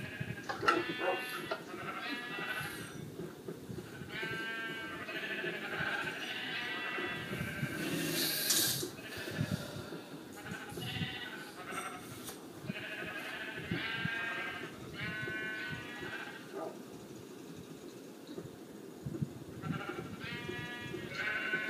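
Sheep in the video game Minecraft bleat repeatedly in overlapping calls over a steady background wash of game sound, with a voice speaking now and then.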